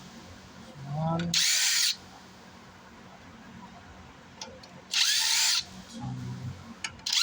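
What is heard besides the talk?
power drill driving screws during subwoofer repair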